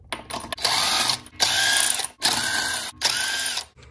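Ratcheting on a Miata's Japanese-made wheel lug nuts, several bursts of rapid clicking in four close, loud runs separated by brief pauses.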